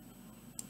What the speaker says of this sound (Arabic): اعمل رايت كليك